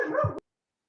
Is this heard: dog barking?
yes